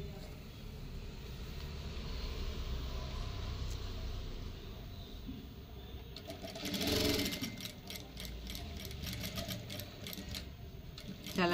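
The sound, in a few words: sewing machine stitching around a half collar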